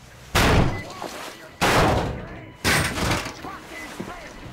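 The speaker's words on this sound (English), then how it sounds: "The door's giving, so let's give it a shot, Artyom!" A door giving way and slamming in the video game Metro Exodus, with three heavy crashing impacts spaced about a second apart, each followed by rattling debris, loud and close.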